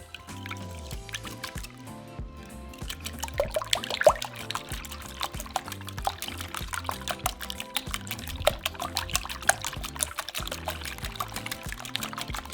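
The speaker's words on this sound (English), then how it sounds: "we're going to whisk them until we can no longer see the egg whites" Six eggs whisked in a large bowl for churro French toast, a steady quick rhythm of wet sloshing and light clinks of the whisk against the bowl, close and fairly quiet, with no talking.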